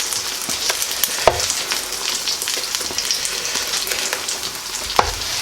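Eggs sizzle and crackle in a hot pan for chicken fried rice, a dense continuous frying hiss with occasional scraping stirs and a couple of sharp clanks, close and fairly loud with no talk.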